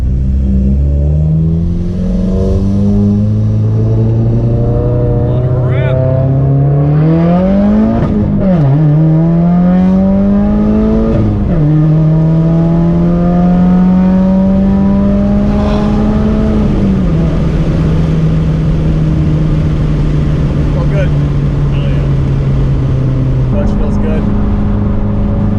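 A Subaru WRX engine, just fitted with a new clutch master cylinder, revs hard and close, rising and falling in repeated sweeps with sharp climbs, then settling to a steady high drone, with a voice briefly heard over it.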